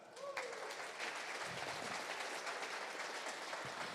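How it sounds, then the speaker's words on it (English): A crowd at a gala breaks into sustained, dense applause that fills the whole stretch, loud and steady with no talking over it. "I think that deserves a clap."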